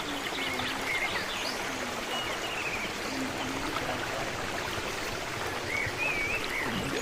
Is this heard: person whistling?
no